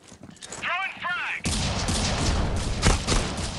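Gunfire in the mobile shooter game Critical Ops: a dense, rapid burst of shots bursting in loudly after a couple of short chirping game sounds, continuing steadily to the end.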